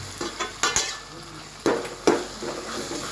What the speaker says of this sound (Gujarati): ટમેટા નાખી દીધા છે. હવે ટમેટાને પકાવીએ.